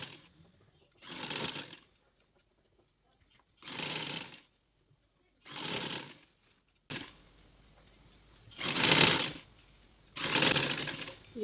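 Sewing machine stitching along the folded edge of a shirt strip, running in six separate bursts of steady whirring, each lasting about a second with short quiet gaps between, close and clear with no talking.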